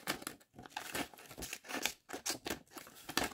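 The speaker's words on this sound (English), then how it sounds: "Victorinox scissors are very hard to beat." A pair of Victorinox scissors handled and snipped up close after unboxing, giving a run of crisp crinkling and cutting sounds in quick irregular bursts, with no talking.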